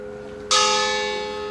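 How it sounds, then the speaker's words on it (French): A single memorial church bell tolls once at the Marcinelle mining disaster anniversary, striking sharply and then ringing on in a long, slowly fading hum, alone and fairly loud. "262 tintements de cloche en souvenir des 262 disparus"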